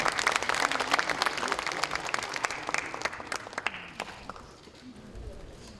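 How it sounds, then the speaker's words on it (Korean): Applause from lawmakers at a Democratic Party caucus meeting, brisk and fairly close, with individual claps standing out before it thins and dies away near the end. "다시 한번 힘찬 응원의 박수 부탁드립니다"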